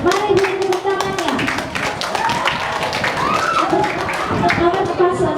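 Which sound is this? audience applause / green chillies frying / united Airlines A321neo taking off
audience applause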